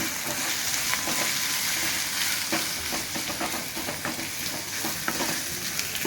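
Curry leaves and green chillies, with carrot, fry in a pan, a constant sizzle broken by irregular scraping stirs throughout, close and moderately loud.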